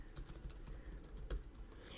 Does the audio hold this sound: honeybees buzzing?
no